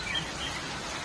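Birds chirp briefly in the rain near a house, a couple of thin high tweets over a steady wash of falling rain.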